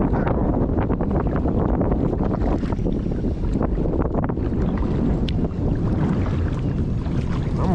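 Strong wind buffets the microphone in a steady, loud roar while a kayak is paddled across rough water on a very windy day during bass fishing, with no voices.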